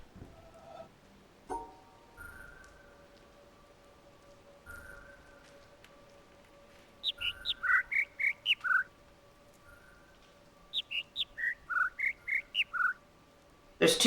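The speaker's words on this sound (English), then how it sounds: "There's like multiple of the same bird." Birdsong in the video game The Witness: two quick runs of about seven bright chirps each, close and clear, over faint steady ambient tones and a few soft electronic beeps.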